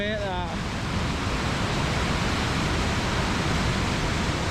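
A waterfall in Scotland roars in a loud, unbroken rush of white noise, close and steady, after a brief vocal sound at the very start.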